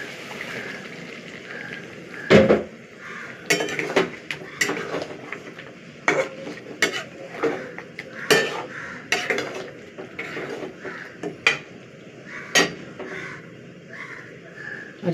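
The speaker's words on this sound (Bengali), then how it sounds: "যতক্ষণ আদা রসুনের গন্ধটা না কাটে তখন 2-3 মিনিট আমি নাড়াচাড়া করবো" A spoon scrapes and clinks against a cooking pot as ginger and garlic are stirred, irregular sharp knocks over a soft background sizzle, no voices.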